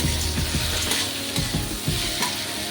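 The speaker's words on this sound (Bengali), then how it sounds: "এখন মশলাটাকে বেশ ভালো করে সবজির সাথে মাখিয়ে বেশ কিছুক্ষণ মশলাটা কষিয়ে নেব সবজিগুলোকে।" Half-boiled vegetables frying with spices in a pan, a loud, close sizzle with repeated scraping stirs at an irregular pace and no talking.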